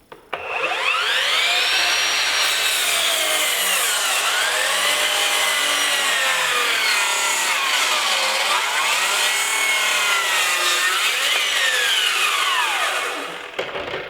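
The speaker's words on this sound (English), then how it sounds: "Let's go to a bevel cut here, back with the 8 amp hour battery." A cordless 18V Surgeon 12-inch dual-bevel glide miter saw on an 8 amp-hour battery makes a bevel cut through wood: a loud, steady motor whine with shifting pitch as the blade bogs and recovers, running continuously for about thirteen seconds before stopping.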